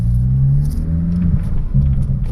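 Chevrolet Astra 1.8 engine pulling hard in second gear, its note rising steadily as the revs climb, then dipping briefly at a shift before droning on, loud and close inside the car.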